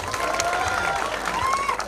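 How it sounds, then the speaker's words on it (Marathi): An audience gives a burst of steady, dense applause for a state-level player at a village gathering, the clapping continuous and moderately loud throughout with some murmur of voices mixed in. "याच्यासाठी जोरदार टाळ्या वाजवायच्या."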